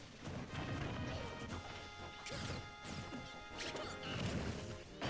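Repeated smash attack hits from Super Smash Bros. for Wii U all-star mode, featuring Lucas and Ryu, land as sharp crashing impacts and whacks over busy game music and effects, with no talk.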